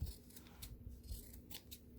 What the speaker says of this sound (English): Cut off some of those outer layers that you just sewed.